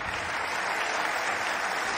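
Steady, dense applause from a crowd at a memorial ceremony in Germany marking 50 years since the Munich Olympic massacre, honouring German President Frank-Walter Steinmeier, sustained and even throughout.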